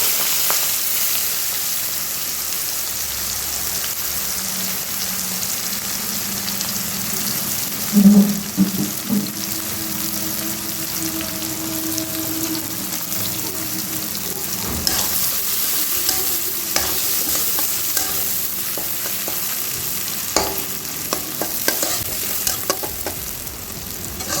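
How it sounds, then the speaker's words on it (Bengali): Long-sliced onions frying lightly in oil, in the pan used for a fish-head muri ghonto, producing a continuous rain-like sizzle with occasional utensil scrapes and clinks, steady and close with no talking. "এই তেলের মধ্যে আমরা আমাদের এই লম্বা লম্বা করে পেঁয়াজগুলো হালকা করে ভেজে তুলে নেব।"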